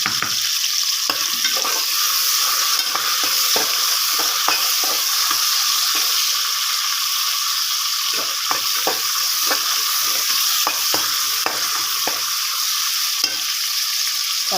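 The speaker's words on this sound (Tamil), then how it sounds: "தக்காளி நல்லா வதங்கி வரட்டும்." Tomatoes sautéing in a pan for rice and dal, a steady loud hiss of frying throughout, broken by repeated close scrapes and taps of a spoon stirring.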